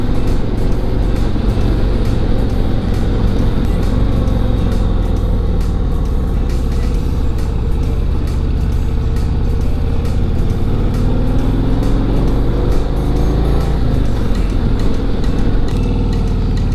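A fast cruiser-style touring motorcycle with low-profile tires and upside-down forks rides along, its engine droning steadily and loudly without a break, mixed with constant road and wind rush.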